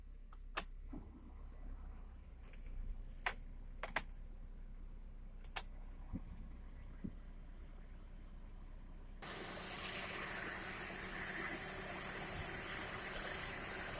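A car engine with its AC compressor clutch engaged: a few sharp clicks and taps over quiet hum, then the engine starts abruptly and keeps running with a steady, loud, broad roar.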